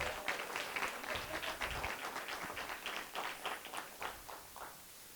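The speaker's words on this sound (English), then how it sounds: "Can we please give a round of applause for Ms. Daphne Maxwell Reed?" An audience at a Richmond, Virginia event gives a round of applause for a guest speaker, a soft, fairly distant clapping that fades toward the end.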